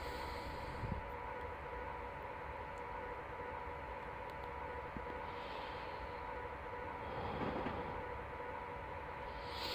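A locomotive running in Train Simulator Classic, using the same sounds as the Class 86 and 87, gives a quiet, steady mechanical hum with a faint rail rumble and a few soft clicks, with no one speaking.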